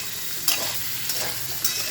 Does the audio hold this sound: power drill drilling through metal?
no